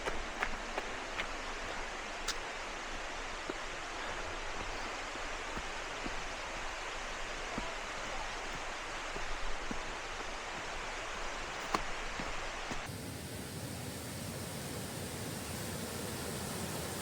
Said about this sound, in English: so waterfall number 2 of the 4 Waterfalls Trail